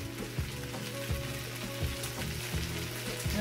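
Vegetarian Pad Thai noodles fry in a pan as basil goes in, with a steady close sizzle broken by regular stirring scrapes about every three-quarters of a second.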